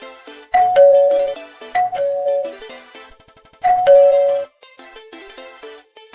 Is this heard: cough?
no